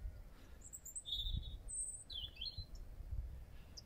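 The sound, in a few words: bird singing in a treetop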